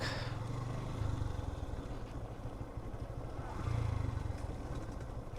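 A Yamaha motorcycle rides a hilly mountain road between Marisya and Merung, its engine a steady low drone with wind noise that swells briefly twice.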